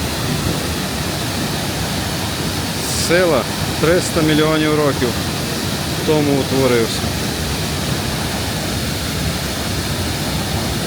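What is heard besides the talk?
waterfall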